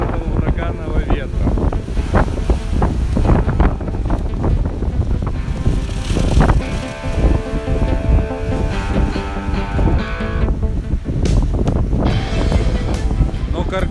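Hurricane-force wind howls and roars continuously at a frame house construction site on a cliff in Crimea, loud and buffeting against the microphone with gusting swells throughout.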